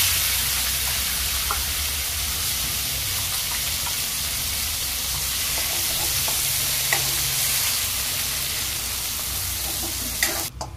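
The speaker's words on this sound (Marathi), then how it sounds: "हे बघा, छान असं मसाला परतून झालेला आहे।" Masala with bay leaf sautéing in hot oil in a kadai for rajma, a steady hissing sizzle with soft stirring scrapes and a sharp clank at the very end, no voices.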